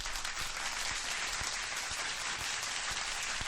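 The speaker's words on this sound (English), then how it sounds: "Let's give a round of applause for the birthday boy in the chat" Dense, even applause plays as a steady hiss of many hands for a birthday celebrant during a UFC betting livestream, with faint low thumps recurring regularly beneath it.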